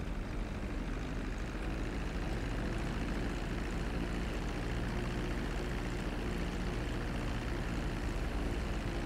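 Steady, continuous drone of a small propeller plane engine in GTA 5, holding a constant loud hum with no pauses and no talk over it.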